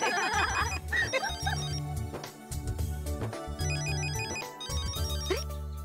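A telephone rings in a home kitchen in a Hindi TV sitcom, a repeating electronic ringtone pattern sounding several times over a low background music bed, with no talk.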